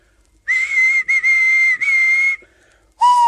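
A steam engine whistle blows three loud, sustained blasts in quick succession, then a shorter, lower-pitched toot after a brief pause, heard clearly with no talk.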